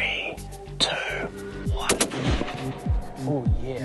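Rifle shots fired at fallow deer while hunting near Wanganui, several sharp reports with rolling echoes spread across a few seconds, close and loud, with voices talking in between.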